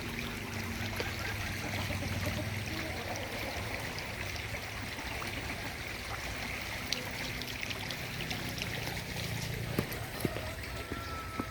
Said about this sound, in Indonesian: Ada air panas di sini yang mengalir.